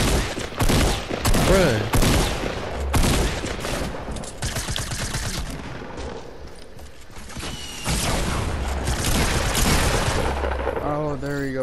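Rapid bursts of video game gunfire crackle loudly and nearly nonstop, with heavy booms and mechanical clicks, while players talk over the fighting.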